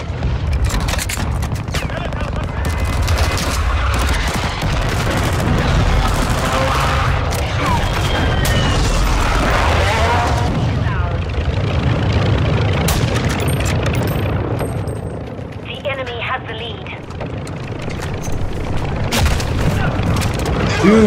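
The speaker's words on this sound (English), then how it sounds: "What are you shooting me with?" Gunfire and booming explosions in the Call of Duty Modern Warfare 2 video game, a loud, dense barrage of shots and blasts that runs nearly the whole time, easing briefly near the end before picking up again.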